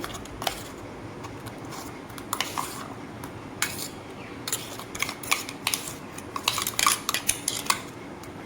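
A metal spoon scoops ground spice paste from a bowl while mustard oil is added for a Bengali small-fish chorchori, giving repeated close clinks and scrapes of utensil on metal over a steady low background.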